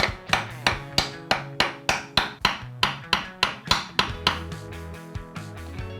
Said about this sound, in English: Just gonna give it a little tappy tap tap.